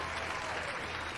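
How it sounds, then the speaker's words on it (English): A crowd applause sound effect: dense, steady clapping from many hands, fairly faint and brief, with no cheering voices standing out. "And the crowd goes wild."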